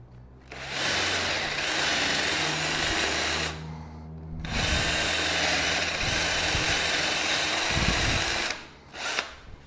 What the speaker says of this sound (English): But in this case, it's drill a bigger hole.